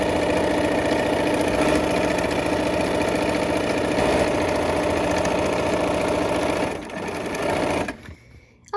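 A sewing machine stitching quilt seams, running in a fast, steady mechanical whir for several seconds, then slowing and stopping, close and clear with no voices.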